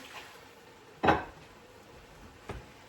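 A kimchi noodle dish being stirred in a pot, heard as a single sharp knock of a utensil against the pot followed by a softer clink, close and quiet, with no voices.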